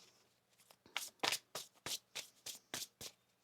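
Tarot cards are shuffled in a quick series of about ten crisp riffling bursts, close and clear in a quiet room, with no speech.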